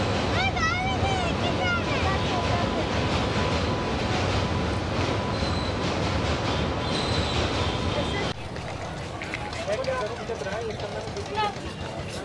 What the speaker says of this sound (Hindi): ये यहाँ से पूरा ब्रिज को क्रॉस करते हैं ट्रेन